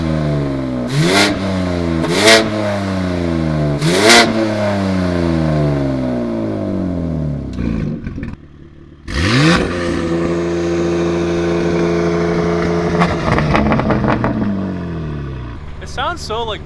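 BMW G87 M2 with a full titanium exhaust and valves closed, revved hard several times close up, each sharp rise falling away, then a longer blip and a drop back to a muted, droning idle.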